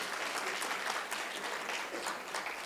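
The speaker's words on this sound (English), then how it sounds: "let's start this very special day with a huge round of applause for all you wonderful people" Audience at the inauguration of the MHM India Summit 2023 applauding, a steady wash of clapping from a crowd, faint and somewhat distant.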